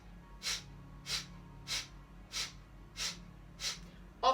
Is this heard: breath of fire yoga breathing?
yes